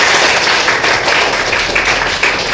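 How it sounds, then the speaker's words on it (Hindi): Class 10 biology students applaud loudly in a classroom, a dense, continuous wash of clapping that stays strong and even throughout. "ओके, जोरदार ताली देंगे"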